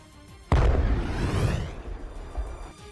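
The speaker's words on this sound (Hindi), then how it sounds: "टैंक पर बम गिरते ही वहां जोरदार धमाका हुआ, जिससे पूरा इलाका थर्रा गया।" A single deep bomb explosion on a tank booms suddenly, then rumbles and fades over a couple of seconds, heard from a distance.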